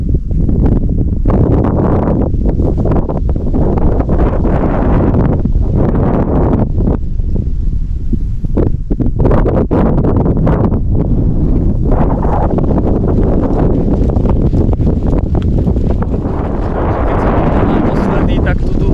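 Strong, steady wind buffets the microphone near a small chapel on an open hilltop site with a fire pit and bench, roaring continuously and loudly with gusty swells throughout.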